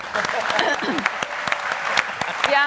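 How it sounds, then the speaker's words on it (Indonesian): An audience at a lively political debate breaks into steady applause, dense clapping filling the hall throughout, with a voice speaking over it. "Kita tepuk tangan untuk Mas Hanta."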